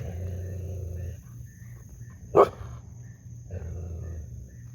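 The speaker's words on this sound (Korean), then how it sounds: "릴리 지금 짖고 난리 났습니다" A dog on a walk barks once, sharp and close, after being startled by a very large bird, with a steady low hum and faint background noise around it.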